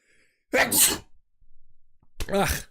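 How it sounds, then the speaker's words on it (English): A loud, close sneeze with a sharp burst of breath, a short pause with a faint inhale, then a second forceful sneeze. "I need to sneeze."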